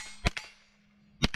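Two pairs of sharp metallic shots ring out, each a gunshot followed by a clang of steel target plates, the pairs separated by about a second of quiet, fired through a red dot sight on an outdoor range.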